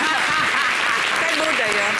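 A studio audience at a television show applauds, a dense, steady clatter of many hands clapping close by, with talk faintly mixed in.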